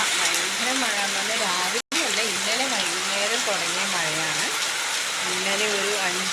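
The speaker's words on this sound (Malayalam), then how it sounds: "നല്ല മഴ പെയ്യുന്നുണ്ട്" Heavy monsoon rain falling steadily outdoors, a continuous broadband hiss that lasts throughout, with a voice speaking loudly over it.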